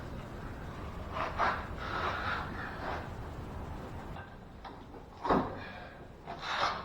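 A wide pry bar wrapped in a rag levers trim molding off a 2009 Tahoe door, giving close, quiet scraping and creaking bursts, with a sharper pop near the end.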